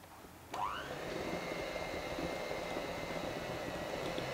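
A carrot cake batter of zest, cardamom, cloves and cinnamon is beaten with an electric mixer, which whirs up after a brief click and then runs as a steady near drone to the end.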